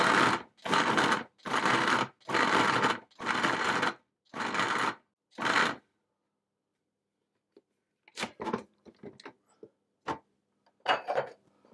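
Cold butter and flour are pulsed in a food processor, about seven short loud whirring bursts in steady rhythm, then quiet with a few faint clicks and knocks.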